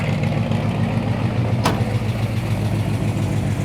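A 1971 Chevy El Camino's 454 V8 idles steadily with a low rumbling exhaust throb, close and constant, with one brief sharp click partway through.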